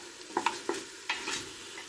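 Meat bones frying in a pot, a soft continuous sizzle broken by a few sharp scrapes of stirring, close and fairly quiet.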